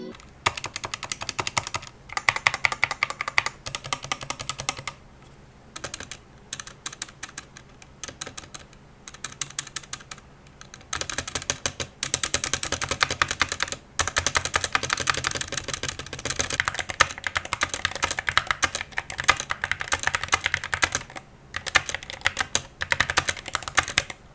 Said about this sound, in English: Here is a quick sound test of the SK64S with stock GATERON Optical Black switches.